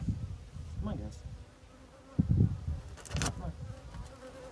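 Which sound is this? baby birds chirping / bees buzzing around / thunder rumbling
bees buzzing around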